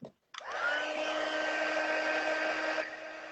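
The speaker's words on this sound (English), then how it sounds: "I'm going to be turning my heat gun on in order to heat this up right here" A heat gun switches on after a short pause and blows as a steady, loud whooshing roar with a faint whine, heating white embossing powder on a stamped craft project. It runs unchanged for several seconds and dips slightly near the end.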